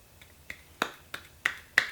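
Sharp finger snaps, jokingly called one hand clapping, sound alone and close: six crisp clicks spaced about a third of a second apart, growing louder toward the end over a faint hiss.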